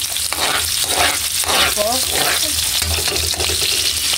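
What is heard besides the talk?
stirring food frying in a pan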